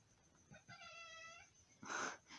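A domestic cat meows close by indoors, a couple of short calls followed by a longer, louder drawn-out meow, with no talking over it.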